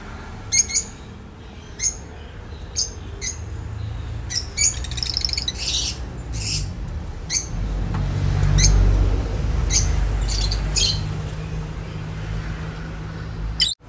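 A batch of adult African lovebirds gives sharp, repeated chirps and squawks in short bursts over a steady low rumble, fairly close and lively throughout.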